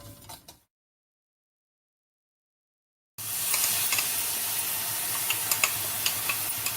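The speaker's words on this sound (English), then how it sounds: "I will add about half a tablespoon of poppy seeds or khaskhas and roast this well" Poppy seeds roasting in melted ghee in a pan give a steady soft sizzle with scattered tiny pops and ticks, starting abruptly after a brief quiet gap and continuing alone and close.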